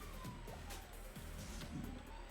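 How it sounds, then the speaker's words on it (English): A police siren wails steadily through a busy, noisy mix, its falling sweeps recurring across a couple of seconds at moderate level. "I didn't ask for sirens."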